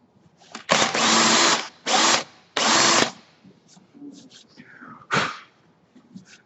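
Several short bursts of a power drill boring into a turned wooden snowman, each a loud whine lasting under a second to about a second, separated by pauses with faint handling noise.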